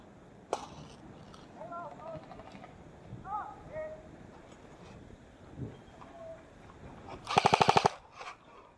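Airsoft guns fire outdoors among trees: a single snap early on, then a loud rapid burst of automatic shots near the end, with shouting voices and faint birds in between.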